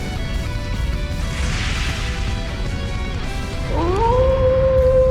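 A wolf howl in the video game Trails into Reverie rises and then holds a long tone near the end, loud over a busy battle backdrop of rumbling effects.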